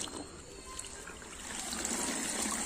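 Water trickling and splashing close up while a silk saree is being washed by hand, a steady wet pouring that swells slightly louder toward the end, with no talk.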